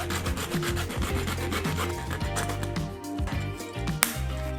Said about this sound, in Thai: เราก็เอาเลื่อยมาเลื่อยเลย